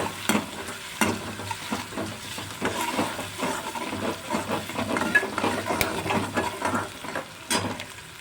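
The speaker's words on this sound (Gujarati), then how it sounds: "ગેસને આપણે ધીમો રાખવાનો છે ને ફ્રેન્ડ્સ આપણે બધું હલાવી લેવાનું છે અને ગોલ્ડન બ્રાઉન થવા દેશું" Ginger, chili and garlic paste frying on a low gas flame while a spoon stirs it, giving a continuous close sizzle with regular scraping taps against the pan and a low steady hum underneath.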